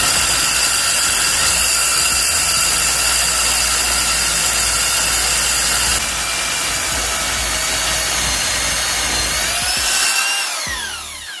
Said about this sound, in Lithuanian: toks pas jūs perforatorius, toks grąžtas